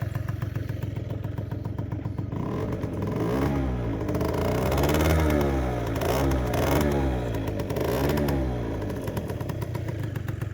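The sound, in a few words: Aprilia SR50R scooter engine running after cold start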